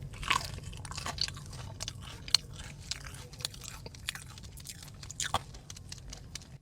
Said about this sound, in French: Bien crispy, on a le petit croquant amené par le coleslaw